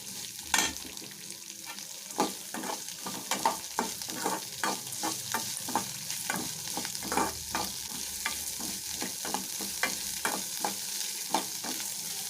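Onions sautéing in a pan for a South Indian urundai dish with grated coconut, a constant close sizzle broken by regular scraping stirs of a spoon against the pan, with no voices.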